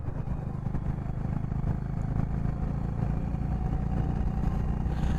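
A Honda Highness CB350 motorcycle cruising on a highway, its engine a steady, low, throbbing drone mixed with wind rush, constant throughout with no talking.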